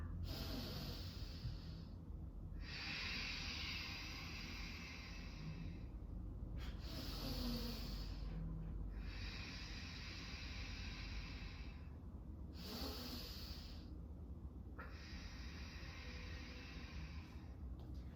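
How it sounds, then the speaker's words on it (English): Slow, deep yoga breathing, long airy inhales and exhales repeating in a steady rhythm with brief pauses between, close and soft against a quiet background. "Take a full breath in. Let your balloon get really big, and then exhale."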